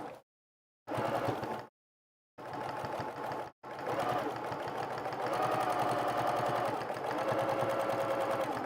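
A sewing machine stitches around the curved edge of a kids' apron, starting in two short bursts separated by silence, then running in a longer steady whirring stretch with a clear mechanical hum.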